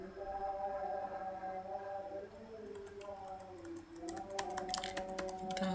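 Clicky typing on a computer keyboard during a Kotlin Jetpack Compose layout session, with scattered keystrokes building to a quick flurry of presses near the end over a low steady hum.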